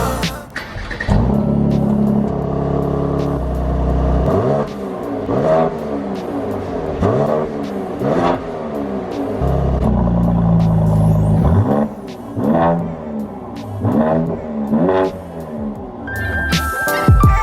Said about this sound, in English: So driving the C43 Estate.